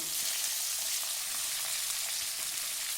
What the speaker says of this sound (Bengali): নুন দিয়ে কাঁকরোলগুলো আমি ভেজে নেব।